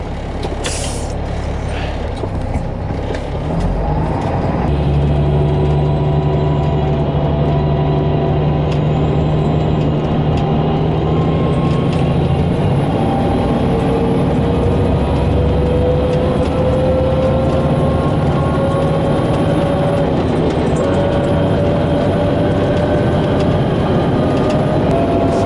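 LMTV military truck rolling on newly balanced massive tires, a loud steady engine and drivetrain drone with a gradually rising whine, preceded by a brief hiss at the start.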